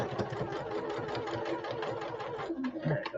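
A sewing machine running steadily while stitching a beveled corner, with a continuous buzzing motor hum and faint rhythmic needle chatter throughout, loud and close with no pauses.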